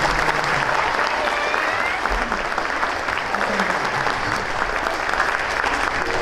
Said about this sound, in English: I'd really like to give them a round of applause for an amazing governor.